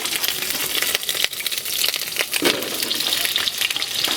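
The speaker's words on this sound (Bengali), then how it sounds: "তো আলুগুলো ফ্রাই করে নিচ্ছি।" Potatoes cut for a mutton dish fry in a pan at a picnic, with steady crackling sizzle and bursts of stirring and scraping, close and loud.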